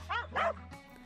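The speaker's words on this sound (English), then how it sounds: "Blue Heeler dogs are usually trained when they reach 8 to 10 weeks old." A Blue Heeler cattle dog gives two quick, close barks in a row followed by a brief softer yip, all within about a second.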